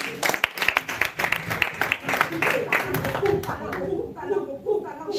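A church congregation applauds and acclaims Jesus during a service, scattered rhythmic clapping mixed with raised voices and cheers, loud and close, with people talking throughout.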